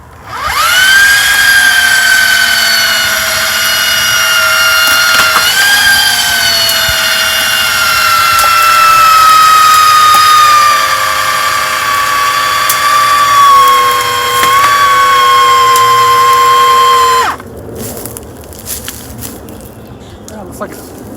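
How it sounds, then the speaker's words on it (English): A Warn winch whines loudly and steadily as it cables a stump out of a creek bed, its motor pitch sliding gradually lower under strain for about seventeen seconds before cutting off, leaving faint rustling behind. "Looks like the winch is moving the entire stump right now"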